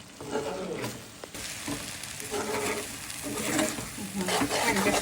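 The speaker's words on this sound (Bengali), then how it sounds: "আর একটু ভাজা ভাজা করবো, ভাজা ভাজা করে নামিয়ে ফেলবো" Tomato chutney sizzles and fries in a pan, a steady continuous crackle with occasional stirring scrapes close by, no voices.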